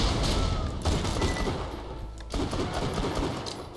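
Rapid, continuous gunfire from a gun in the video game Borderlands 2 rattles loudly and closely in a dense stream of shots, with a few brief pauses and no talking.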